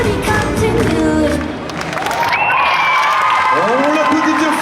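A cosplay contest crowd at TGS Montpellier applauds and cheers after a performance, a steady loud wash of clapping and whoops mixed with music and a voice over the top.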